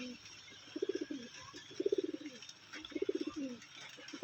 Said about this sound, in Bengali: এই একটা জিরিয়া পায়রা দেখুন